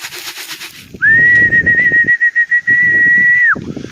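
A person whistles one long, steady, high note for a few seconds to call pigeons outdoors, close and loud, with faint rustling and cooing around it.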